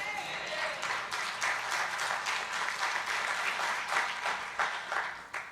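A church congregation claps together in a sustained, even burst of applause, moderately loud and fairly close, with a few louder claps near the end.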